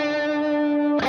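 An electric guitar chord rings through a BOSS GT Plexi/Brit stack amp model with reverb turned up and cranked, sustaining loud and steady before a sharp pick noise at the end.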